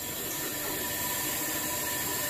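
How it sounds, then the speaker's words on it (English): High-pressure steam hisses loudly and steadily through a pipe drain near a leaking pigtail, a harsh, continuous broadband rush close by with no talking. "It's letting more steam in now."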